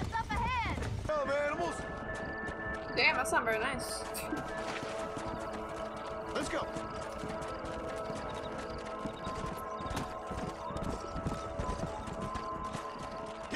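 Horse hooves clip-clop at a gallop in the Western video game Red Dead Redemption, a rhythmic steady patter running throughout, while someone talks over it and faint game sounds play underneath.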